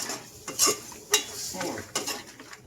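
Crab in coconut milk stirred in a pot, with a utensil clinking and scraping against the metal in a few irregular strokes close up.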